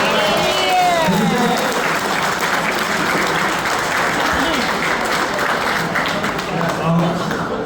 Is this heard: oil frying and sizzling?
no